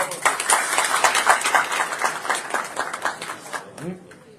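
Audience applause at a Turkish political election address, a burst of dense clapping that carries strongly then thins out and fades toward the end, with voices mixed in.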